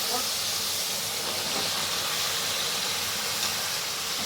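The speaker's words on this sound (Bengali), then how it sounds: "এখন আমি এর মধ্যে ভেজে রাখা চিকেনটা দিয়ে দিচ্ছি।" Previously fried chicken pieces tipped into a hot tomato-onion masala in a pan, giving a steady, loud hiss and steam-like sizzle that holds evenly throughout with no pauses.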